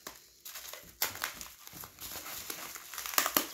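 Crinkling and tearing of a taped package holding small basketball card lots, close and moderately loud with uneven rustles and sharper rips, no talking.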